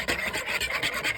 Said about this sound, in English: I'm going to just whisk everything up really good.